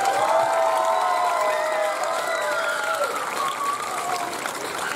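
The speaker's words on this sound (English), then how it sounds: "So clap it up for them one more time." A middle and high school band concert audience applauds steadily for the beginning concert band, a dense, sustained wash of clapping with some cheering and whistle-like tones riding on top, holding fairly loud throughout before easing slightly toward the end.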